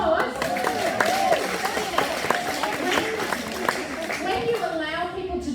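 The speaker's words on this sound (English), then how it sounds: "Can we give her a round of applause?" Audience applause for Liz at a leadership event, a crowd clapping steadily with cheering voices mixed in and people talking over it.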